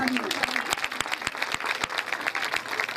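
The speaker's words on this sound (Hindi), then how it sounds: "आपकी भरपूर तालियों में" An audience applauds at an annual school prize ceremony, many hands clapping in a dense, even patter with a few sharper individual claps, while a voice talks over it.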